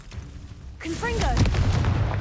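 A Confringo fire spell blasts off in the Hogwarts Legacy game: a sudden loud burst with whistling, crackling tails that rings on over a steady background rumble.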